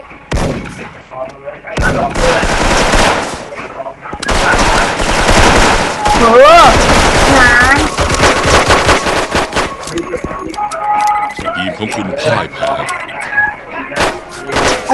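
Loud, dense gunfire and blasts crackle nearly nonstop in a game, bursts of rapid shots and booms crowding together, with excited voices shouting over the din.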